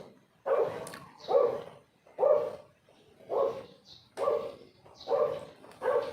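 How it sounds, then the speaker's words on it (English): Dogs bark in a steady series of about seven loud, close barks spaced roughly a second apart, with no talking. "The dogs are barking."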